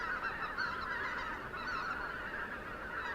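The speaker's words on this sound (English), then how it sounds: "They sound like snow geese to me." Snow geese honking overhead in the dark at night, a distant flock giving repeated overlapping calls over a steady hiss, faint and continuous with no talk.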